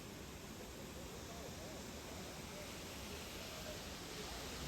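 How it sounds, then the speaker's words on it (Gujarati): A waterfall along the Kedarnath trek roars as a steady, broadband rush of water, constant and fairly faint, with no pauses throughout. "વોટરફોલ"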